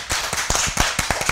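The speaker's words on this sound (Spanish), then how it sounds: "Ya podemos darle un aplauso para despedirlos entonces" Applause from an audience seeing off a group of young guests at the close of an educational programme, heard as a short burst of distinct, fairly close hand claps in an uneven rhythm, with no talking.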